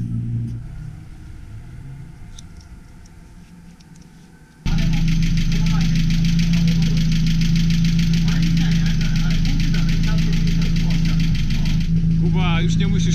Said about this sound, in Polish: Tutaj też klepią silniki, więc luz.